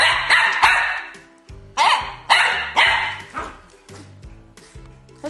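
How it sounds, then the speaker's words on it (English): A dog barks loudly and close by in a series of sharp, separate barks roughly every half second to second, with short yips between, over a faint background voice. "Bark. Bark again."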